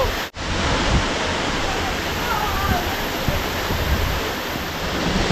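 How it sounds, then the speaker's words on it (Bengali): Second tier of a waterfall in Kalimpong, a steady, dense roar of falling water close to the microphone, broken by one short dropout near the start. "একটু আগে আমরা যে ঝর্ণাটা দেখলাম শ্যাংখোলা ওয়াটারফলস তারই এটা সেকেন্ড লেয়ার"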